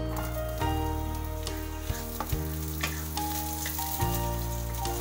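Onion hits hot oil and tempered spices in a pan with a loud, steady sizzle, broken by a few sharp stirring clinks and scrapes; no voice is heard.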